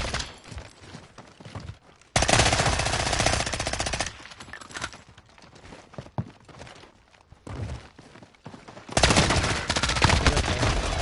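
AS Val rifle fire in an online 3v3 shooter gunfight comes in dense rattling bursts, the loudest at the start and near the end, with quieter stretches of footsteps and thuds between.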